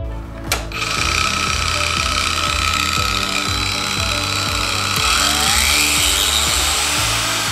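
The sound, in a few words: Parkside 20V cordless angle grinder running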